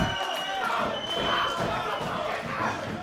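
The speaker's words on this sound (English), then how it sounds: "Feeling the roar of the Fight Factory crowd." A roaring crowd at a Fight Factory professional wrestling show fills the clip with loud, surging cheers and shouts, swelling and dipping in waves, with occasional thuds and voices mixed in.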